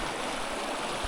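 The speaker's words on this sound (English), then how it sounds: "had to cross a Gold Brook here" Flowing water of Gould Brook along a winter trail, a loud, steady rushing wash heard up close with no voices.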